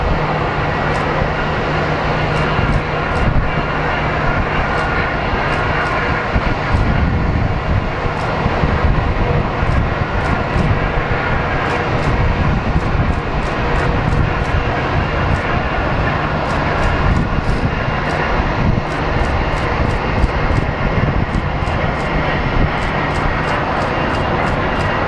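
A Southwest airliner lands at Phoenix Sky Harbor airport, its jet engines making a steady broad roar at a distance with wind buffeting the microphone, no talk.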